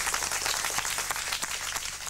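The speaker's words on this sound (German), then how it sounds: "Das Publikum applaudiert kurz." A brief burst of scattered clapping from a theater audience, fairly faint and dense, lasting only a couple of seconds.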